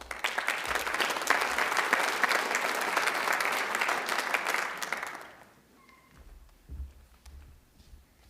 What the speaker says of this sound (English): all this applause is just, giving me a real high